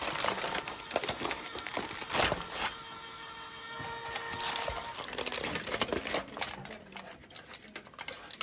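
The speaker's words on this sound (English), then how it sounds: "You just peel it off of the foil. And break it into chunks." Christmas crack candy being peeled off foil and snapped into chunks, close crinkling of foil mixed with sharp clicking breaks and crunches in irregular bursts, no voices.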